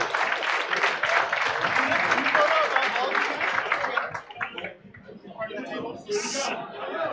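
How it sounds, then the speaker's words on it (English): Luncheon guests applaud in a full burst of clapping mixed with chatter and voices, fading after a few seconds into murmuring talk and a few scattered claps. "Please give them a round of applause."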